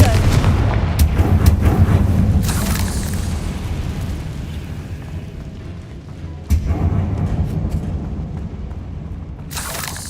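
Hogwarts Legacy's fiery Confringo spell erupts into loud, booming blasts with rumbling low roars, several sharp bursts and crackling debris over continuous game ambience.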